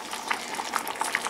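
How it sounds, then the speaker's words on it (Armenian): Pear jam boiling in a pot on the fourth round of cooking, a steady soft bubbling hiss with small pops and blips scattered throughout, close by and fairly quiet with no voices. "արդեն 4-րդ անգամ եմ եռացնում, եփում, երկար չէ, 5 րոպե, 10 րոպե, հենց այսպես եռում է"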